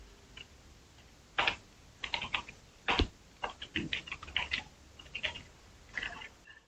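Code being typed on a computer keyboard, quiet irregular key clicks arriving in short bursts with brief pauses between them, close by and without speech.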